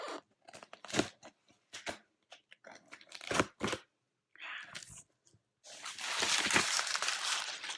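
Scissors cutting open a heavy cardboard box of books, with irregular snips, crunches and tearing bursts, then a longer stretch of ripping cardboard, all close up.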